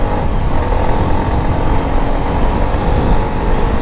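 A Hero Super Splendor BS6 125cc five-speed motorbike engine being pushed harder while riding, a loud continuous rumble with wind noise and a steady drone throughout.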